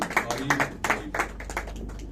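A church congregation claps in a quick, even rhythm, with closely spaced claps over a steady low hum of music.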